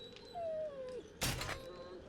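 A wolf in the survival game 7 Days To Die gives a thin, falling whimpering cry up close, followed by a short sharp thud of impact.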